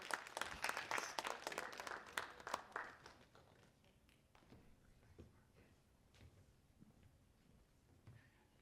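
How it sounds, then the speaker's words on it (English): Audience clapping at a music and visual arts concert, a dense burst of applause for the first few seconds that thins into scattered claps and taps, fairly distant in a hall. "let's give a hand to Carol as well"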